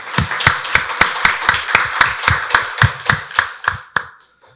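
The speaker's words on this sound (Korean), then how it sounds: "박수로 하나님께 영광 돌리겠습니다." A church congregation claps in unison during a Christmas service, about fifteen sharp, evenly paced claps that end abruptly, followed by a brief fading room tail.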